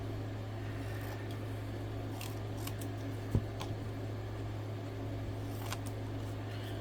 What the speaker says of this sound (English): I'll just cut that out real quick